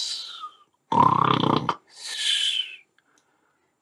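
A voice imitating a tiger snoring: three drawn-out snoring breaths with pauses between, a throaty rasp in the middle one.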